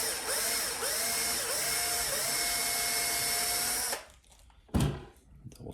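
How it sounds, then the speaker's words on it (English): A power drill whines steadily at high speed, pitch wavering as it bores into a Traxxas Sledge RC car's suspension arm, then stops abruptly, followed by a brief clunk. "I'm just gonna drill out this front part of the arm here"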